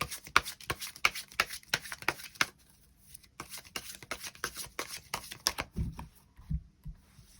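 Tarot cards are drawn and handled on a table, giving a rapid series of crisp close card snaps and flicks, a short quiet gap, then more light slaps and shuffling with a couple of duller thumps near the end.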